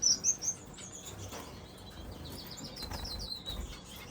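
Shafttail finches chirp with high, thin tweets in an indoor bird room, with soft wing flutters and rustling, the calls fairly faint against a steady background.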